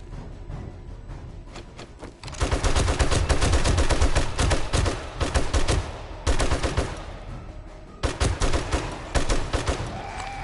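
Loud, rapid machine gun fire rattles in long sustained bursts in 7 Days to Die, with a short pause before a final burst. The shots are close and dominant with no talk over them.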